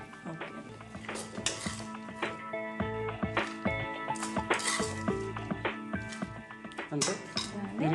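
Rose prawns are moved onto a serving plate with a steady run of close metallic clinks and clatter from utensils and dishes, while people talk and a background tune plays.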